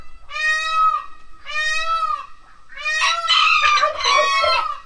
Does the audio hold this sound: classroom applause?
no